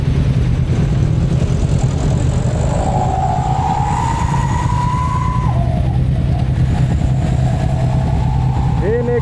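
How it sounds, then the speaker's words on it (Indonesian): A motorcycle cruising along a patched national road toward Yogyakarta, its steady engine drone and wind rumble continuous and close, with a rising engine tone sweeping through the middle as other vehicles pass. "Kita naik motor."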